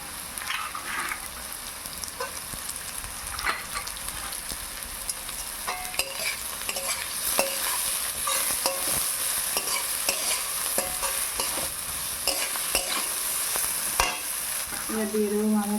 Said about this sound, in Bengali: এবার আমি সব সবজিগুলো একসাথে দিয়ে দেবো।